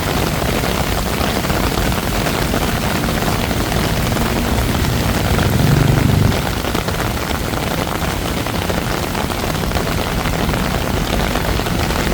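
Heavy rainy-season rain pouring onto a Bangkok street, a dense, steady hiss of downpour at constant loudness with a brief low rumble midway and no voices.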